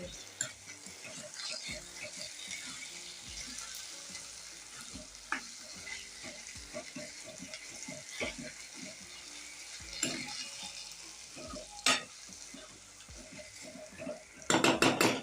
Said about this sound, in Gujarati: આપણે એક વાર આટલા ચમચાથી પ્રેસ કરી લેશું